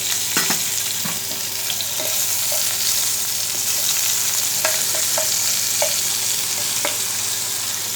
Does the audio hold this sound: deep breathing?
no